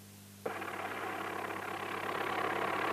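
A tractor engine idles with a low, steady hum, then a loud rough rumble kicks in abruptly and holds at an even level, close by with no voices.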